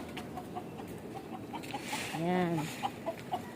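Chickens cluck faintly in a residential lot inside a gated compound in Pasay City, with soft scattered clucks and one clearer call under steady background noise, and a voice speaks briefly.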